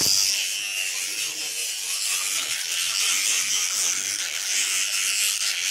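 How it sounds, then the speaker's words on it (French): Teeth being brushed, a close, continuous bristly scrubbing hiss with a faint mechanical buzz, steady throughout with no talk. "Fait que maintenant je vais me brosser les dents."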